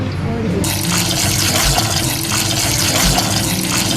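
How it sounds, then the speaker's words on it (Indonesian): Shredded oyster mushrooms being washed in water: a steady, loud wash of running and splashing water fills the whole span after a brief quieter opening. "Ini setelah disuir jamurnya dicuci ya."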